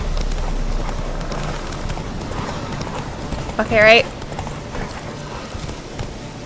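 Horse galloping in The Witcher 3, rhythmic hoofbeats thudding continuously beneath someone talking, with a brief neigh or whinny rising partway through.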